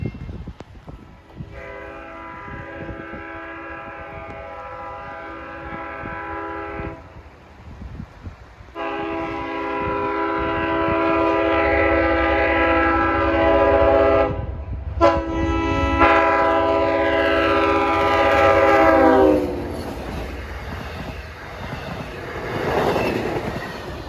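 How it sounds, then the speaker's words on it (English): A K5LL air horn on Long Island Rail Road DE30AC locomotive 420 sounds at the Main Street crossing in Holbrook in the rain. Three long, loud chords and a shorter fourth play over approaching wheel rumble and clatter as the train passes close. "It's got a nice K5LL horn."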